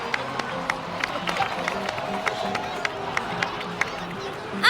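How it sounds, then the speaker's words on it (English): A crowd applauds and cheers in Genshin Impact, a steady patter of clapping with scattered sharp claps and murmuring, moderately loud with voices mixed in. "please give another round of applause for them"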